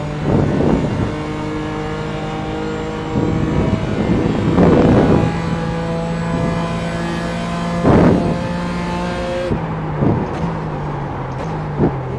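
Race car in the iRacing simulator, a loud engine with revs rising and falling and several sharp blips as it downshifts through the gears.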